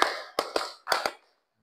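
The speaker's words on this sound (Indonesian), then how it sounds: "Tepuk 5 kali." A classroom of students claps in unison five times in a quick one, two, two rhythm. The claps are sharp, close and crisp, with silence after the last one.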